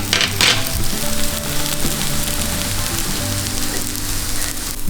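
Plantain arepas fry in a pan over medium-high heat with a steady, dense sizzle that fills the whole stretch, a brief brighter crackle near the start, and no talking.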